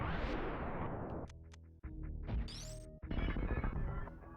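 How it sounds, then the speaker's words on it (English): Glass shattering in a Super Nintendo game, a loud crashing burst followed by a cascade of bright tinkling shards and chiming synthesized tones, with game music beneath and no voices. "this is my favorite Super Nintendo sound effect right here, is the breaking of the glass"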